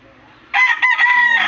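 A rooster crows loudly and close by in one drawn-out call, after a moment of quiet farmyard background.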